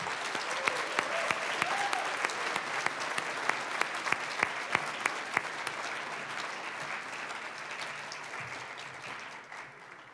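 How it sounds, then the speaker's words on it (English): Sustained applause from an audience honoring graduates of a job training program, dense and steady throughout with sharp individual claps poking through, tapering slightly near the end. "give one more big round of applause for them and everything they've been through"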